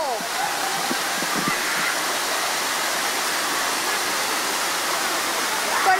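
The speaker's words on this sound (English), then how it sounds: "Were you energized by the waterfall, David?" A waterfall produces a steady, dense roar of rushing water throughout, close and fairly loud, with no talk over it.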